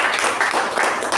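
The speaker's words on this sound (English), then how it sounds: "I think he deserves a big round of applause" An audience at a meeting gives the speaker a round of applause: a brief, fairly loud wash of clapping without pauses.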